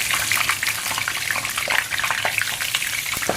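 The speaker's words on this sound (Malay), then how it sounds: "sekarang kita goreng chicken patty ayam" Oil sizzles and crackles steadily as a chicken patty fries, a close, continuous spatter with small pops throughout.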